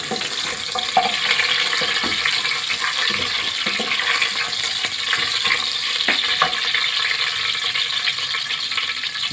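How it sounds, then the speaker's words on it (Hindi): Whole spices — bay leaf, cardamom, cloves, black peppercorns and black cumin — frying in hot oil, a steady bright sizzle with faint stirring clicks, continuous and close without speech. "सबसे पहले हम इसको फ्राई करेंगे थोड़ा सा"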